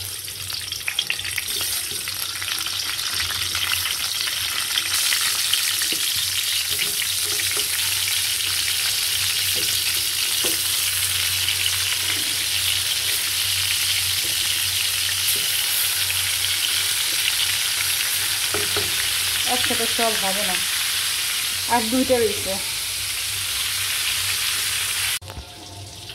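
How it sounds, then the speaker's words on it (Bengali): Eggplant slices rubbed with turmeric and salt fry in oil in a wok, giving a loud, steady sizzle throughout; a person speaks briefly near the end. "এখন এই বেগুনগুলো ভাইজে নেবো এই কড়াইতে।"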